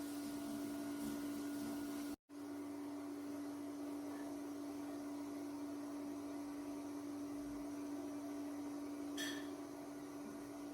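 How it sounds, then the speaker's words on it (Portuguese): A 3D printer heating up before it starts printing: a faint, steady electrical hum with a fan-like whir, unbroken apart from one brief dropout near the start, no speech. "Ela está aquecendo, daqui a pouco ela já começa a imprimir."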